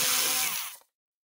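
An electric screwdriver whirs briefly as it backs screws out of a paint spray gun, a high buzzing spin that stays steady for under a second and then cuts off abruptly into silence.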